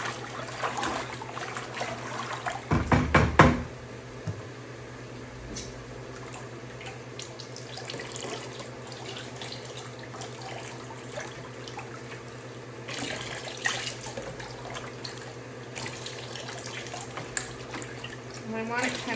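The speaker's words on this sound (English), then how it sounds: "I'm going to pour the antique pearl on the top" Antique pearl ceramic glaze pours onto a waxed cake plate in a loud liquid splash around the three-second mark, then gentler trickling continues, with a second pour near thirteen seconds over a soft background hum.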